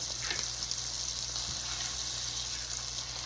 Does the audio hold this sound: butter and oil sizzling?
yes